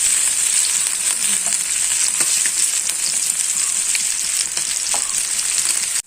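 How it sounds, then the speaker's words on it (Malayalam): Sardines with green pepper fry loudly in a pan, a dense, close, steady sizzle with soft scraping and clinks as the fish are turned over, ending abruptly, with no one speaking. "ഇതെല്ലാം നമുക്ക് തിരിച്ചിടാം"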